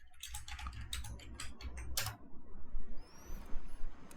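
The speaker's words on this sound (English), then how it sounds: "I'm just typing this" Rapid clacking of computer keys in quick bursts, close and fairly crisp, followed by a pause with a faint high electronic tone.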